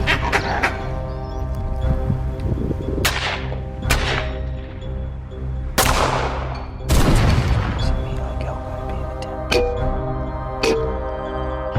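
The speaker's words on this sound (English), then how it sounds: "the sound of gunshots echoes through the air" Gunshots ring out across open South African country during a baboon hunt, several loud separate cracks spread over about twelve seconds, each trailing into a long rolling echo, with some faint sound in the background.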